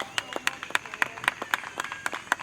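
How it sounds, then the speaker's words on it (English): A small audience at a repatriation panel claps for the panelists, with sparse, distinct hand claps in an uneven rhythm close to the microphone. "Give them a round of applause."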